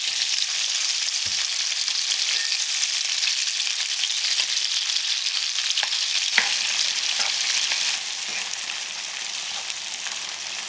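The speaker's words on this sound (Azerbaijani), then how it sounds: "Doğradığım soğanları içərisinə əlavə edib" Chopped onions fry in oil in a pan with a steady, bright sizzle, with occasional soft taps and one sharper clatter midway, easing slightly toward the end.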